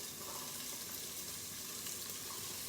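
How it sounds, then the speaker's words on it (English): Onions frying in a pressure cooker pan give a steady, dense sizzle with a constant hiss and faint crackle, unbroken throughout and without talk. "I'm gonna go ahead and put all the onions"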